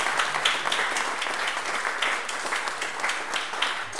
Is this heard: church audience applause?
yes